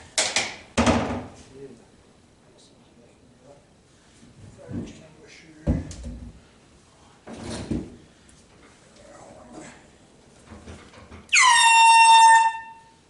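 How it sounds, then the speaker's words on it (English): A boat horn being tested gives one loud, sustained blast near the end, after a string of thumps and knocks like gear and compartments being handled. "that horn works."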